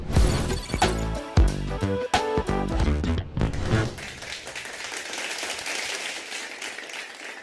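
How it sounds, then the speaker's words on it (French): Loud, bright percussive music gives way to a dense, steady burst of audience applause that continues to the end, with no talk. "On peut s'applaudir."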